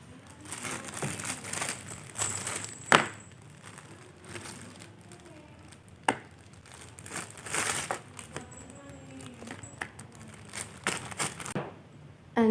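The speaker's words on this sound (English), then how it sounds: "crush and crumble some Oreo cookies. You can also put them in plastic bag" Oreo cookies crushed inside a plastic bag, with intermittent crinkling and crackling of the plastic and sharp crunches in scattered bursts, close and fairly quiet.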